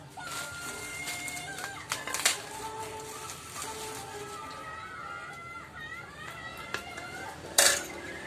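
A spoon tapping and scraping against dishes during a meal of chicken liver, with several sharp clinks and one bright louder clatter near the end, heard close over faint room noise and quiet voices.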